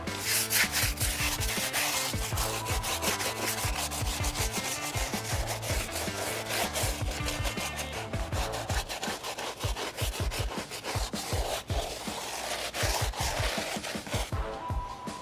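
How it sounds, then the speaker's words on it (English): A bristle brush scrubs a sprayed car tire in quick back-and-forth strokes, a dense rhythmic rubbing that keeps up steadily and close, with sharper scrapes toward the end. "then we're gonna spray it on again and scrub them"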